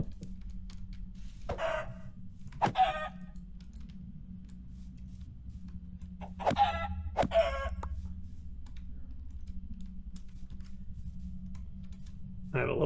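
Chickens clucking in Minecraft (FTB Skies modpack), a few short separate bursts spaced across a steady low background hum, with faint clicks scattered between.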